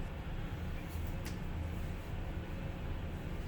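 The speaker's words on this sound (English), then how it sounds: "That noise you're hearing in the background is my heater noise today" An apartment heater runs steadily in the background, giving off a constant broadband rumbling hiss with no clear breaks.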